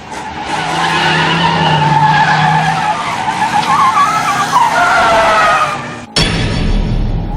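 Car tires skidding in a racing video game as the rear tires lose grip: a loud, sustained squeal with wavering tones over engine noise for about six seconds, then a sharp cut to a different, brighter engine sound.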